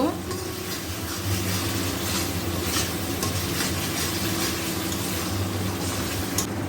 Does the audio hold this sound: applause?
no